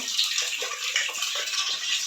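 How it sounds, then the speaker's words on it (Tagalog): Noisy household water faucet filling a bucket, a steady, hissing rush of running water with a splashing, bubbling fill, close and continuous. "ang ingay-ingay ng aking gripo"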